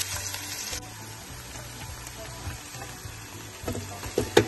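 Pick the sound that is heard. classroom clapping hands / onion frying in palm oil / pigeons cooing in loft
onion frying in palm oil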